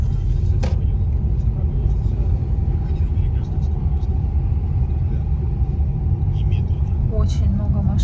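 A car drives at night on a road under repair with reversible traffic and heavy congestion, its steady loud rumble of engine and tires filling the cabin, with occasional faint clicks and passing sounds.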